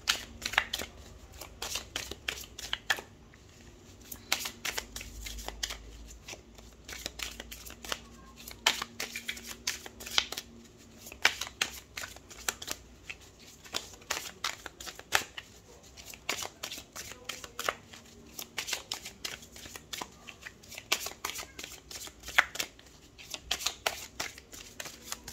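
Tarot cards shuffled by hand at close range, a long run of crisp riffling flutters and soft taps in quick irregular bursts.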